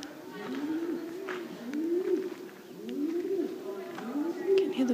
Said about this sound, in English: You can hear the pigeons like going insane.